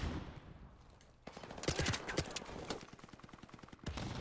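Rapid automatic gunfire in a Call of Duty 4 Modern Warfare Remastered team deathmatch, with quick bursts of sharp cracks and a steady run of rhythmic shots toward the end. It sounds moderately close and fairly quiet overall.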